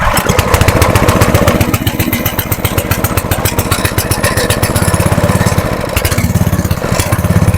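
A homemade petrol-fuelled generator engine runs loud and steady nearby, its rapid, even firing pulses holding throughout with a slight change in tone partway.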